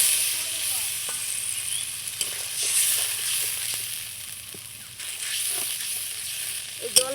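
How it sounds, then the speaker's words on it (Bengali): Spice paste for a cauliflower and potato curry sizzles steadily in a pan after a splash of water is added, a continuous bright hiss with occasional spatters and small stirring knocks, close and fairly loud with no talk. "এই জলটা দিয়ে মশলাটাকে আবারও আমি খুব সুন্দর করে কষিয়ে নেব।"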